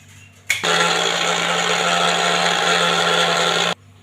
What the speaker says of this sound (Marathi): आता हे असेच आपल्याला ह्याची पावडर करून घ्यायची आहे